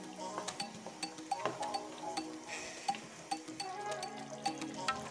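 Achari mutton is stirred with chaat masala in a pan. A spoon gives faint, scattered metallic clinks and scrapes at an irregular pace against a quiet background.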